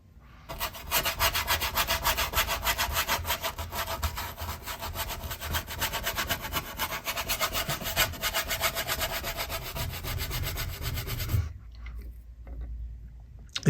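A brush scrubs oil onto the surface of a dried oil painting in a light coat, a steady close-up rasping rub that runs continuously for about eleven seconds, then stops.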